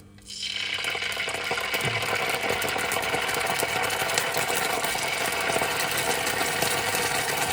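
Jerk chicken with ginger and garlic drops into a hot pan and sizzles loudly, a steady bright crackle of frying oil that starts abruptly and continues unbroken.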